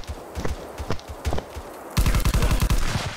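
Gunfire in the VR shooter War Dust: scattered single shots early on, then a dense rapid burst of automatic fire in the second half, loud and close.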